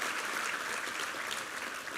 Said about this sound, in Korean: 우리 챔버팀 위에 함께 한번 감사의 박수를 드리겠습니다